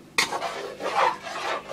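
A spoon scraping and stirring Indian-style egg curry in a metal pan after water is added, a few close rasping strokes in a steady back-and-forth rhythm.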